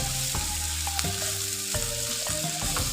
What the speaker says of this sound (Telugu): ఉల్లిగడ్డ మంచిగా మగ్గింది కదండి